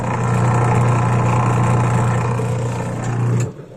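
Sharp single tub washing machine running after a gearbox replacement, with a steady loud motor hum and whirring drone close by that stops abruptly near the end.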